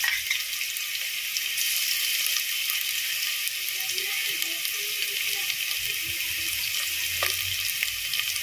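Garlic and ginger frying in a pan, a steady soft sizzle and crackle running throughout with faint stirring, no talk.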